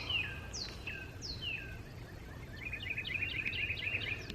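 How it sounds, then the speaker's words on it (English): Several birds chirp and sing outdoors on a spring day, with sharp separate calls early on giving way to a rapid run of tweets, moderately near over a soft background hush. "birds chirping and singing."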